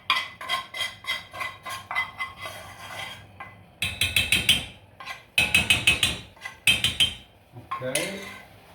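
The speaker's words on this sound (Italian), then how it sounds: "con un cucchiaio andiamo a versare la nostra poltiglia all'interno del vino che sta bollendo" A metal spoon clinks rapidly against a pot of boiling wine as a mixture is poured in, in bursts of repeated sharp taps and scrapes, with short pauses between runs and no speech.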